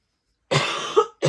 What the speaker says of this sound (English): I'm very sorry for coughing.